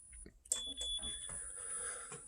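An electronic beep sounds from a spinal decompression table finishing its cycle, a thin high tone holding steady over low room noise and faint movement.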